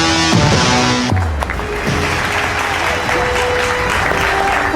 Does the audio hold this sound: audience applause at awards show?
yes